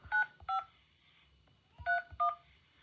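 Four telephone keypad tones beep in two quick pairs separated by a short pause, like a code being entered, over quiet background hum.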